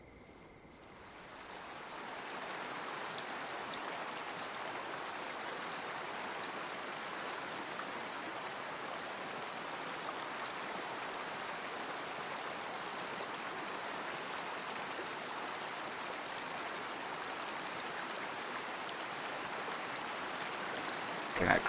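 Flowing river water at night in a hunting video game, a steady broad rush of running water that swells in over the first couple of seconds and then holds at an even, moderate level with no talk.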